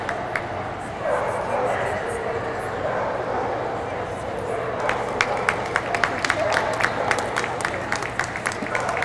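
Dogs barking at an indoor dog show where long-haired dachshunds are being presented, with sharp repeated yaps growing more frequent over a steady crowd murmur and voices in the background.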